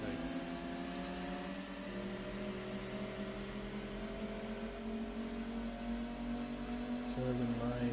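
A black Daihatsu Sirion races in Gran Turismo 2 with a steady, whining engine drone that holds level, then shifts pitch a couple of times and climbs at the end, loud and continuous.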